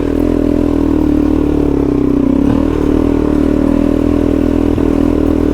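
An adventure motorcycle pulls away in first gear on a rocky mountain track in the Australian Snowy Mountains, its engine a loud, steady, close drone with light clatter and scraping from the stony ground.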